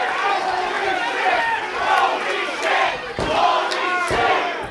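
A wrestling crowd at a live independent show roars, cheers and chants in loud rhythmic bursts, with a brief dip before the noise surges again.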